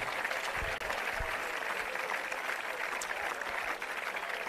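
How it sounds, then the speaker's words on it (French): Sustained applause from an audience at a school sports closing ceremony in Grammatiko, Greece, steady and dense throughout with no pauses. "On les applaudit très fort."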